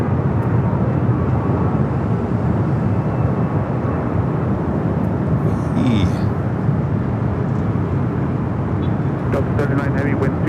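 A Delta airliner rolling for takeoff on runway 24 left at Los Angeles International Airport, a loud continuous broadband engine roar with steady wind-like rush, a faint radio voice briefly audible over it.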